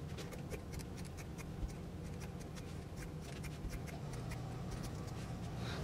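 Scissors cutting through a tea towel along its fold, a run of quiet, close, rhythmic snipping and fabric rasping over a low background hum.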